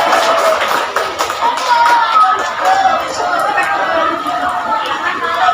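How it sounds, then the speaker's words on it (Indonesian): An audience at an Isra Mi'raj gathering in Cileungsi, Bogor claps loudly and steadily while people talk and chatter over the applause throughout. "Tepuk tangan Bu, buat bapak-bapak Bu."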